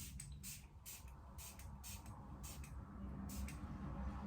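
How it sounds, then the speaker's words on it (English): A facial setting mist sprayed over the face in a series of short, close hissing bursts, about eight quick spritzes in a steady rhythm, soft and alone. "I just spray it all over my face"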